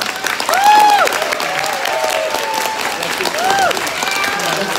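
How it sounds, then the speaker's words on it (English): A crowd applauds for student app pitch teams at the close of a pitch presentation event, with steady clapping running throughout and whistles and cheers rising above it. "let's give all the teams a big round of applause"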